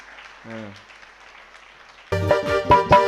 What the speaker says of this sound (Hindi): ताली बजा करके सम्मान करो 7 प्रतिमाधारी